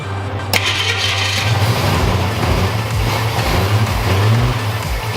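A 1966 Ford Mustang engine runs roughly with uneven revs and sputters, loud and close, the idle wavering throughout with no one speaking, before it dies.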